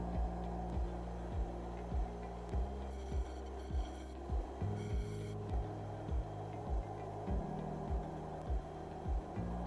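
Ends of threaded metal parts for the Marble Machine X being deburred by hand: a regular series of short rasping strokes, roughly one per second, over a constant low motor hum, with no voices.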